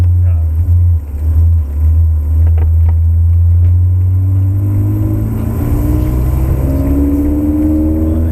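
Ferrari 360 engine on the Silverstone circuit, a steady low drone held in a lower gear with a slowly rising pitch as it accelerates, loud and continuous under an instructor's voice.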